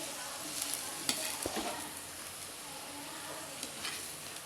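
Coconut and pirandai for thuvaiyal sauté in a pan with a faint, steady sizzle and occasional soft stirring scrapes, quiet and close.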